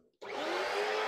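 A vacuum cleaner switches on abruptly after a brief quiet moment and then runs loud and steady while cleaning an Anfim SPII coffee grinder during a burr service, with no talk.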